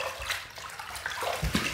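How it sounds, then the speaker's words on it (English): Water splashing at a sink as the face is wetted before a shave, a run of close, bright splashes and trickles lasting under two seconds, with no talking. "let's wet the face and let's get to the shave"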